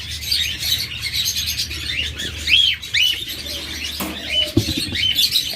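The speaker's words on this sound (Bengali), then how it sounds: "এরপর এখানে আরেকটা চমৎকার জোড়া লাভবার্ড রয়েছে, একদম রানিং লাভবার্ড।" A pair of lovebirds chirps near and loud, with rapid, bright, repeated tweets and short rising calls overlapping continuously, plus a brief flutter or knock partway through.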